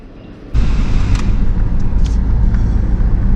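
Car engine rumbling loudly and steadily from close by as the vehicle drives around a neighborhood, starting abruptly after a quieter moment.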